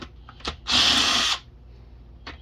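A power tool spins out a bolt from a 2005 Acura TL transmission during a valve body teardown, one loud high-pitched whir lasting under a second between a few metallic clicks and handling knocks.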